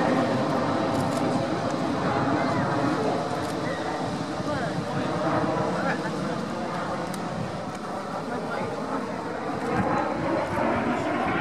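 Two De Havilland Vampire jets fly a display at the RIAT 2018 air show, making a loud, continuous roaring rumble that fills the whole stretch while a voice talks over it.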